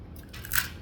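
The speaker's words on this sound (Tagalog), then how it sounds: "Narinig mo yung crunchy?" Crispy fried chicken skin from a snack stall in Satwa, Dubai, crunched in one short close bite, a brief crackly burst that rises and fades in under a second.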